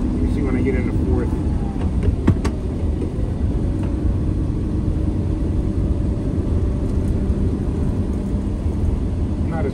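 Truck with a Detroit Diesel 6-71 engine pulling in fourth gear, a loud, steady rumbling drone from inside the cab, with no clear rise in pitch, under faint movement noise.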